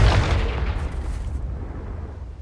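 A single deep explosion from the Confringo spell in Hogwarts Legacy bursts at the start and rumbles heavily before slowly fading into a low, lingering boom.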